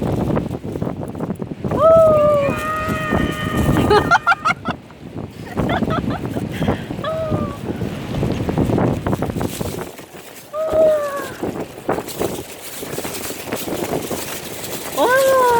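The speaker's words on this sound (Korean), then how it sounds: "바람이 너무 많이 불어요." Strong wind gusts across a seaside garden in Sokcho, Gangwon, buffeting the microphone in rough surges while people talk over it.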